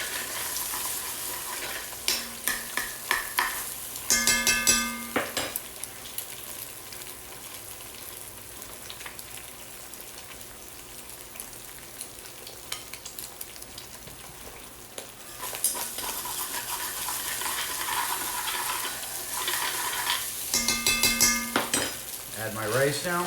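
Eggs fry in a hot pan for odds-and-ends fried rice, a continuous crackling sizzle broken by bursts of metal utensil scraping and clattering against the pan.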